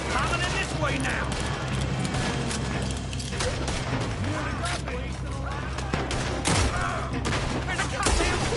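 Rapid gunfire from a Red Dead Redemption 2 shootout, dense volleys of shots and mechanical clatter layered over a constant game score, loud and sustained throughout.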